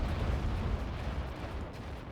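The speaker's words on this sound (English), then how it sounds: "F-22's flying over, taking a few pot shots at the Tigres." Rumbling distant shots and booms from F-22 jets strafing Tigre units in the strategy game Act of Aggression, a dense low roar of muffled impacts over about two seconds.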